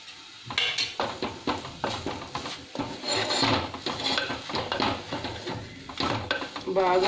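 A mushroom and drumstick leaf curry is stirred and mixed in a pan, with busy scraping and clinking of a spoon against metal over a light sizzle, continuous and close.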